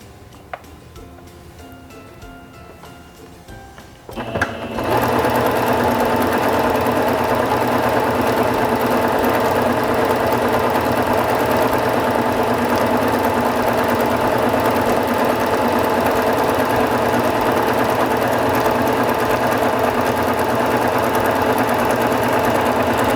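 A SINGER Fashion Mate 5560 sewing machine starts after a few quiet seconds and runs a decorative stitch at maximum width, a loud, steady, fast mechanical whirring with rapid ticking that continues unbroken to the end.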